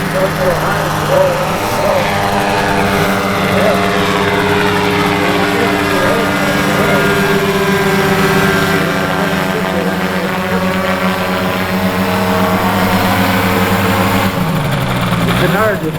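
A Pterodactyl ultralight with a canard wing, an aircraft derived from a hang glider, flies past at an ultralight runway, its light engine droning steadily for the whole stretch while someone talks over it.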